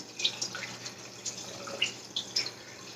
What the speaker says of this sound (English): I am going to pour my brine gently right over the meat.